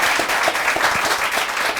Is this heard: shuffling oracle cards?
no